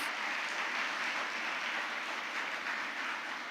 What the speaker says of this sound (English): Let us give them a huge round of applause for the melodious performance.